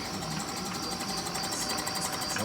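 A surfacing machine cuts down a badly warped engine cylinder head in a racing engine shop, giving a steady, loud mechanical whir and hum with a fine pulsing flutter that runs unbroken throughout.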